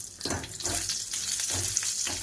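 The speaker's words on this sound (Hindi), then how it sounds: "ये देखिए, दाल का तड़का तैयार कर रही हूँ।" Dal tadka sizzles and crackles steadily in hot oil in a home kitchen, a close, continuous hiss with brief stirring bursts and no talking.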